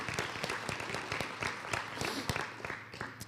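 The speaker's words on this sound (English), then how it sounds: "Yes, clapping" Audience clapping at a 2023 State of the City address in Salem, a brisk scattered patter of many hands with some louder individual claps, moderately loud, with faint voices mixed in.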